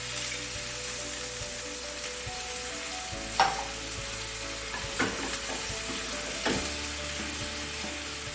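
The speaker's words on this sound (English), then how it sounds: "Now I'll add my beef stock." Beef stock hisses in a hot pan with beef tenderloin medallions, a dense, close sizzle that holds throughout, with a few sharp utensil clinks and scrapes breaking through.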